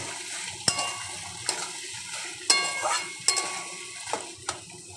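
Chickpeas sizzle steadily in a pan while a spoon scrapes and clinks against it several times, close up, with no voices.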